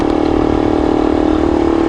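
A motorcycle engine revs steadily on light throttle during a climb on Rocky Top Road, a loud, close, continuous drone with a sustained mid-pitched tone and no talking.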